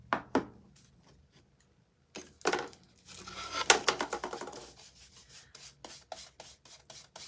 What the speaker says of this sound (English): So we're going to put a coat of clear wax on first,